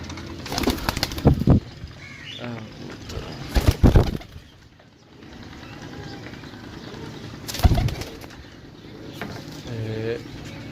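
Pigeons for sale in Sarai Alamgir, Jhelum, Pakistan, cooing with bursts of close wing flapping as birds are handled, while voices talk faintly in the background.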